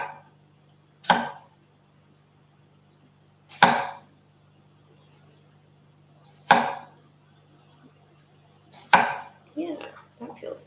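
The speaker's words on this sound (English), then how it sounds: "Cut the cucumber into longer strips." A knife slicing a cucumber into long strips on a board, four separate crisp chopping strokes spaced a few seconds apart, close and clear in an otherwise quiet room.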